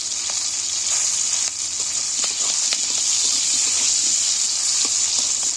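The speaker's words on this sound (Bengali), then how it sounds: "বড় বড় করে পেঁয়াজ কেটে রেখেছি, পেঁয়াজগুলো তুলে দিচ্ছি।" Onions, cut large and salted, fry in a pan with a steady bright sizzle that runs through the whole stretch, with faint clinks and no talking.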